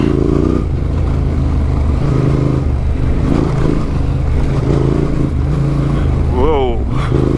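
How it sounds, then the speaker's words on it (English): A 70-degree crank twin-cylinder motorcycle engine runs steadily and loud throughout a ride, with a brief rising rev near the end and some faint voice in the background. "70-degree crank twin cylinder"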